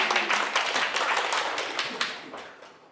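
Short burst of audience clapping in a lecture hall at a community autonomy school class, moderately loud and tapering off over a few seconds.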